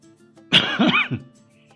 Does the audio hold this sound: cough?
yes